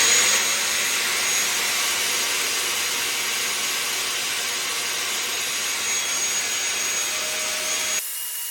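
A plunge saw cuts through an MDF board with a steady, high, whining rasp that holds for about eight seconds and then stops abruptly, leaving a quieter hum.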